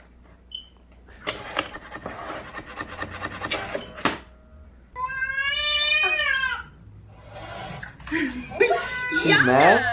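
A cat meows in a drawn-out, wavering cry amid scraping and rubbing against a box, with a person talking before and after.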